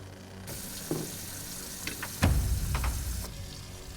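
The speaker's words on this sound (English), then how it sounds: "I hear the water turn on in the hopper." A hospital water tap is turned on hard into a hopper sink, a sudden loud gush that floods in after faint clinks and rustles, then cuts off near the end.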